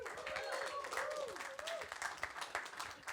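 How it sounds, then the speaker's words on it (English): Faint audience applause at the last talk of an evening event on the Adelaide hospitality industry, a soft wash of clapping with a voice speaking over it throughout. "Give him a round of applause"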